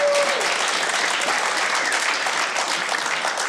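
An audience at the 2018 International 9-Ball Open pool tournament applauds the sponsors with a dense, steady wash of clapping that holds for several seconds. A brief tone opens the burst.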